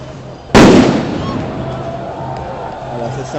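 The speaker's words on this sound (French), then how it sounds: "Une espèce de grenade aveuglante." A stun grenade goes off with a single loud, sharp blast during a nighttime street protest at Place de la République in Paris. The bang is followed by a lingering rumble and echo, with crowd noise underneath throughout.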